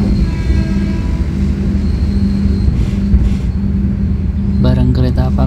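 A Kutojaya Utara long-distance train rumbles steadily as it rolls into Jatinegara station in Indonesia, a low continuous roar with brief clanks, and a voice briefly speaks near the end.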